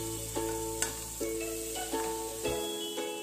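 Two spoons of butter melt in a pan for white sauce corn, giving a steady soft sizzle with light periodic scraping from stirring.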